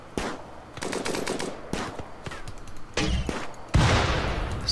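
Light machine gun fire in the video game Rimworld, rapid bursts of automatic shots broken by short pauses, growing louder and denser toward the end, with no talking over it.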